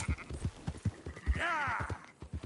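A single wavering sheep bleat rises mid-way in Red Dead Redemption 2, set against steady clip-clopping hooves on a drive, fairly close and clear.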